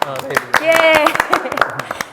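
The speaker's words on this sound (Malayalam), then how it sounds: "നമ്മൾ കൈയടിച്ച് തുടങ്ങാം" Hosts and four guests on a studio talk show clap their hands to open the segment, with sharp scattered claps mixed with voices and laughter, close and loud.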